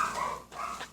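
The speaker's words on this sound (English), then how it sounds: "please don't mind that dog that you're hearing" A dog barks nearby in short, loud bursts across the second, with a brief yelp near the end and no talk over it.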